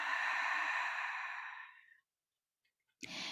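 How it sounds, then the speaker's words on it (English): A slow, drawn-out breathy exhale with a soft open ha sound, like fogging a mirror, fades over about two seconds into silence before another breath starts sharply near the end, close and intimate. "Making that ha sound as you breathe out."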